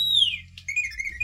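Model diesel locomotive's sound unit playing R2-D2-style droid chirps: a falling electronic whistle followed by quick warbling beeps over a low hum, brief and fairly faint.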